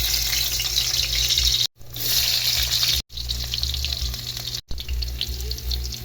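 Aromatics sautéing in a pan for Filipino monggo, a loud close hiss and sizzle broken by three sudden silent gaps.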